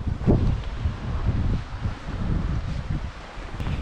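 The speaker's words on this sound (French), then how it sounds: "nous grimpons avec beaucoup de vent aujourd'hui" Strong gusty wind roars against the microphone on a hillside climb near Villefort on Mont Lozère, a continuous low rumble rising and falling with a faint rustle underneath.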